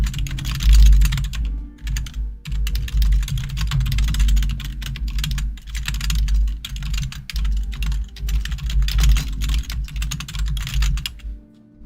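Fast, continuous typing on a computer keyboard, close and loud, with rapid clattering keystrokes in irregular bursts and brief pauses, and no one talking.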